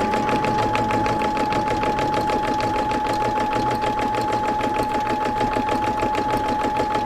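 A sewing machine doing free-motion embroidery stitches rapidly with a steady mechanical rhythm and a constant whine, running continuously at close range.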